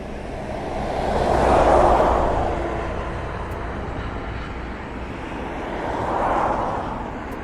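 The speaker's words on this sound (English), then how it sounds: "Can you hear a helicopter?" An air ambulance helicopter drones overhead near East Midlands Airport, its steady broad rumble swelling as it nears, fading, then swelling again; no voices.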